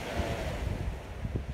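Ocean waves breaking on the surf beach at Dahican, Mati City, Davao Oriental, a steady broadband wash with low rolling surges and some wind noise on the microphone, with no talking.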